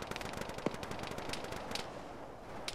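Machine gun tracer fire in the Arma military video game, distant bursts crackling through a constant background rumble, with one sharper nearby report.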